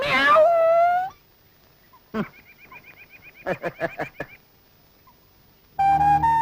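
Two drawn-out, tonal cat meows, one at the start and one at the end, with a few short chirping clicks in the quiet gap between them.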